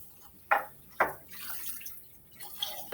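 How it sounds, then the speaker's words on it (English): Syrup is dumped down a sink and rinsed away with running water, heard as a few sharp splashy drips and trickles over a steady faint flow. "I'm going to dump this syrup down the sink with plenty of water to follow behind it"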